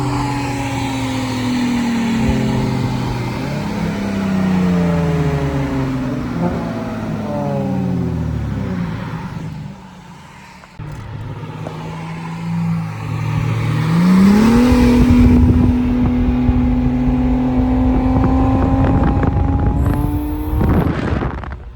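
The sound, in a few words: Lexus IS300 V6 car engine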